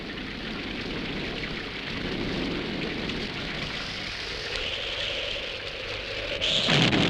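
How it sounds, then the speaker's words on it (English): Steady rain pours throughout an early silent-era film soundtrack, a dense, even hiss of drops that swells slightly near the end. "In this case, rain."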